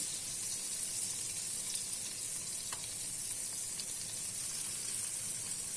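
Tomatoes sizzle in melted butter in a pan for an egg dish with sucuk and kaşar cheese, a steady, fairly quiet frying hiss with a few faint pops and crackles throughout.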